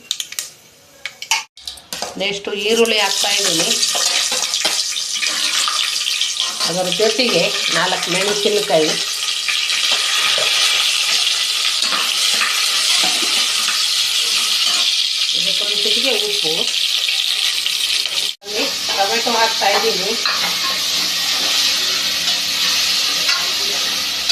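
Whole mustard seeds, cumin, cinnamon, cloves and cardamom sizzling in hot oil for egg biryani, a loud continuous crackling fry with spoon clinks and stirring against the pan, someone talking over it throughout.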